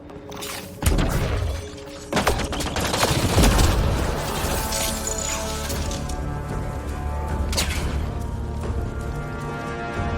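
Gunfire and crashing impacts in Mass Effect: Andromeda combat, with sharp bursts near the start followed by a sustained, noisy roar of battle.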